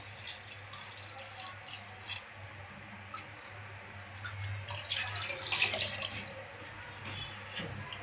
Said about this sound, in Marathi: पाणी ऍड करूया.